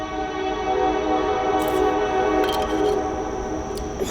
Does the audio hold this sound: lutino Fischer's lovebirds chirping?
no